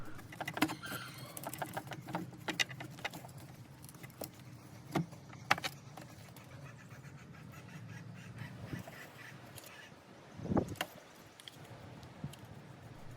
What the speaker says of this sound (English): Next we're going to take the manifold off. You may have to jiggle it a little bit to take it off.